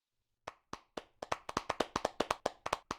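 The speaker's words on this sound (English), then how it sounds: "let us give a warm round of applause to Laurent" A small audience claps for a speaker taking the stage at a virtual-reality event, starting with a few scattered claps that build into a light, steady run of distinct handclaps, fairly close and with no talking.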